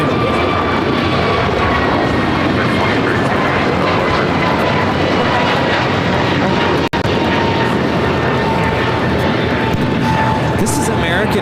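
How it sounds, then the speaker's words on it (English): An American Airlines A321neo takes off from LAX bound for Philadelphia, a dense, continuous jet roar with a steady high whine running loud and close throughout, voices talking over it. "This is American Airlines Flight 2832 taking off to Philly on the A321neo."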